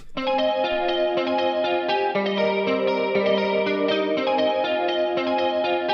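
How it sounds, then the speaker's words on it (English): An electric guitar plays a steady melodic phrase, notes ringing together under a washy, reverberant effect with no voices. "The next thing we're going to do here is add a little bit more reverb."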